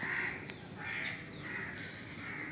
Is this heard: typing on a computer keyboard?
no